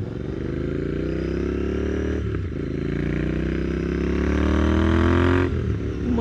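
A Royal Enfield Interceptor 650 fitted with a mini exhaust tip runs close by, its steady low engine drone swelling into a gradual rev, with no voices.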